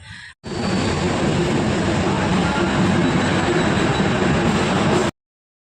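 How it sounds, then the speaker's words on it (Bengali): A loud, steady rumble and rattle of a train pulling out of Alipurduar station toward Assam, continuous after a brief pause at the start, then cutting off abruptly. "তো তারপর ট্রেনটা চলতে শুরু করলো"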